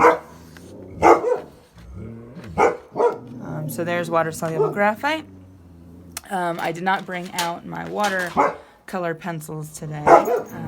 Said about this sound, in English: apologies for the dogs barking